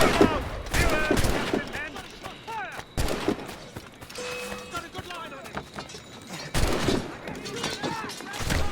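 A volley of gunfire erupts in an Assassin's Creed Rogue cutscene as soldiers fire on a building to smoke out a woman inside, with repeated loud overlapping musket shots in bursts and echoing cracks between them.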